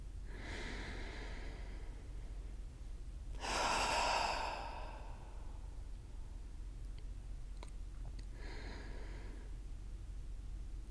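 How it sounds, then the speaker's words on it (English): Deep breaths taken during a guided meditation session, with a few soft inhales and exhales spread apart over a quiet background, the loudest a fuller breath near the middle. "Allow the air in your lungs to fill the space in your chest, causing even more opening. And take some deep breaths together."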